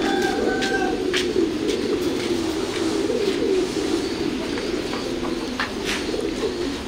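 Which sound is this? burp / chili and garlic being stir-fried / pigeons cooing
pigeons cooing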